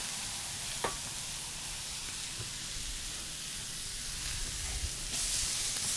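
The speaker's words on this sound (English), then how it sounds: "I like to saute my onions a little first" Chopped onions sautéing on a griddle for Oklahoma onion smash burgers, a steady soft sizzle and hiss running throughout with a few faint scrapes and taps, no talking.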